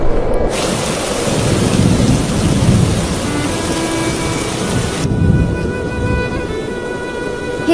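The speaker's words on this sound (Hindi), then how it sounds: "हे भगवान, बारिश होने लगी।" Thunder rumbles loud and close over steady heavy rain pouring down throughout, the low roar swelling in places with no voices.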